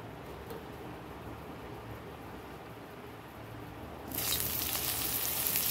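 Panch phoron spices fry in hot oil, a steady low sizzle that jumps to a brighter, louder crackling hiss partway through as the spices hit the oil, no voices.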